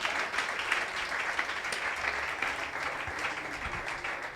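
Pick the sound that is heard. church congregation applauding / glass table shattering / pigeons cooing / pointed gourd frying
church congregation applauding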